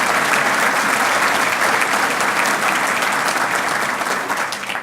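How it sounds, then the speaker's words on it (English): A large audience at a county association legislative conference applauds steadily, a dense, loud wash of many hands clapping continuously throughout, tapering only slightly at the very end. "another round of applause for everything they do for you"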